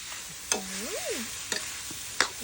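Eel fries in fragrant curry paste in a hot pan with a steady, loud sizzle, broken by a few sharp clanks from stirring.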